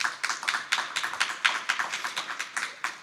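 Audience at a European Commission talk on the single market for services, a short round of light, sparse clapping, a few hands tapping in an uneven rhythm for about three seconds.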